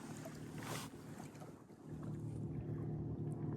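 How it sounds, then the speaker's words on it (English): Strong wind blows across a reservoir during trout fishing, a steady low roar of gusts battering the microphone, close and continuous with no talking. "It's real windy, guys."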